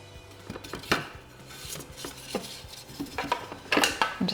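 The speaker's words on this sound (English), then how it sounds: "just going to scrape down our bowl" Spatula scraping down a food processor bowl after blending cheesecake crumb, irregular close clacks, scrapes and knocks against the bowl with no talk.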